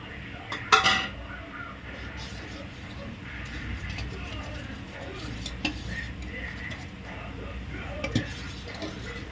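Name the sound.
spoon and pot clinking while adding chopped cashews and almonds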